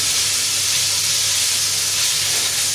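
Beef with ginger and spring onions sizzles loudly and steadily in a hot fry pan, a constant close hiss with no talk.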